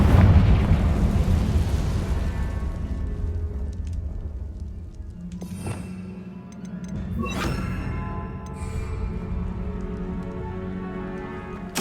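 The Confringo blasting spell in Hogwarts Legacy fires off in a loud, rumbling burst. Sharp crackling blasts follow over a steady roaring background, with no talk.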